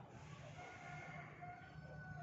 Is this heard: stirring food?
no